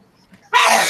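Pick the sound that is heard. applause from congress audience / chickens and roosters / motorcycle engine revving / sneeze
sneeze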